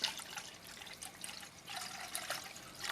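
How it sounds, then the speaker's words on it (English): Two cups of water poured into a pot sitting on a stovetop burner turned up high, a steady close trickle and splash that runs continuously with a brief dip in the middle, no talking. "take the 2 cups of water and pour that in there like that"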